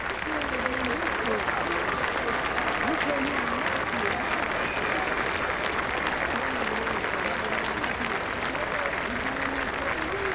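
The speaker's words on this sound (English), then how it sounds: "Another round of applause by everyone." Continuous crowd applause at a high school football game fills the whole stretch at an even level, while a voice talks over it throughout.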